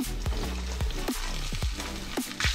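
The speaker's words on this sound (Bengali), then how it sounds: "আর আলু ভাজা বসিয়ে দিচ্ছি, তেল একদম গরম।" Potatoes frying in very hot oil in a small home kitchen, with a steady close sizzle broken by several sharp clattering knocks at irregular intervals, like utensils stirring in the pan.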